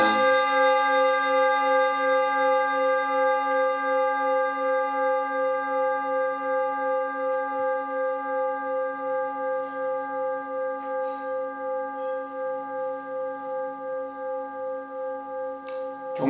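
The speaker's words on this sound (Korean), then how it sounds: "이렇게 종을 치는 종소리를 듣잖아요." A large temple bell, struck with a wooden mallet during a Buddhist service, hums with a long, steady, pulsing resonance that fades slowly across the whole stretch, heard alone without voices.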